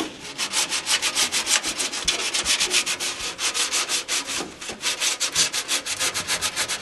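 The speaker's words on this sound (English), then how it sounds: "I'll take the sandpaper and I'll just run it along the bottom edge here." Sandpaper rubbed back and forth along the bottom edge of an aircraft rudder in a workshop, a brisk rhythmic scratching of many quick even strokes, close and loud with no talking.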